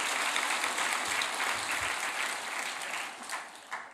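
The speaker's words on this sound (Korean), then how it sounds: "다시 한번 큰 박수 해주시면 좋겠습니다." A church congregation gives sustained, dense applause during a Sunday service. The clapping is fairly close and steady, easing slightly toward the end.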